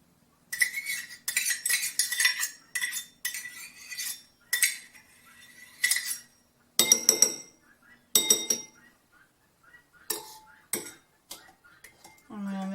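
A spoon stirs homemade coconut oil deodorant in a container, giving a run of close, sharp clinks and scrapes in uneven bursts that are separated by brief silences.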